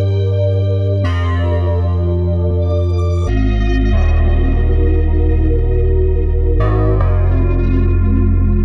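A Diva HS Black Fuzz bass preset shifted up nine semitones rings as a buzzy, distorted lead line, several sustained notes with bright overtones and a thick low undertone, loud and unaccompanied.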